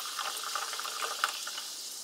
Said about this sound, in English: open up this club soda and you pour it into